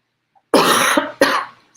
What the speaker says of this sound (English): I have a charming cough too